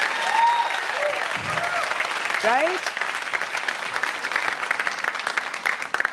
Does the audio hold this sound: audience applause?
yes